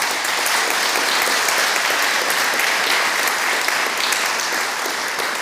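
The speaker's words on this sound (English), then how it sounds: "Big round of applause." An audience at a conference talk on sustainable software development with collaborative domain modeling breaks into sustained, loud applause that stays dense and even from start to finish.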